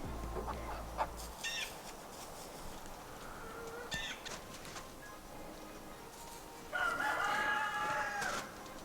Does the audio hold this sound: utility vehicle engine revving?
no